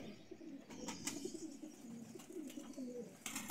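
Pigeons cooing nearby in a low, throaty murmur, steady soft bubbling coos repeating through the moment with faint background noise.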